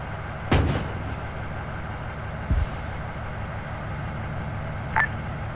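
Gunfire in Arma 3 during a squad assault on a hill: one sharp, loud shot with a booming tail, then a second quieter report and a faint distant crack, spaced apart over low background rumble.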